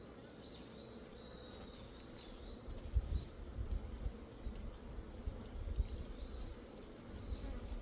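A hornet buzzing around a bee apiary, a soft insect drone over low rumbling background, with faint bird calls in the distance.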